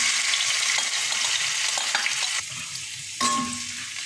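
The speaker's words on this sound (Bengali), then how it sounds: "রসুনটা ভাজা হয়ে গেছে, এবার আমি টমেটোগুলো ছেড়ে দিই।" Oil sizzles loudly around frying garlic and dried chili while a spatula scrapes the pan, then the hiss drops briefly before tomatoes go in and the sizzle flares up again.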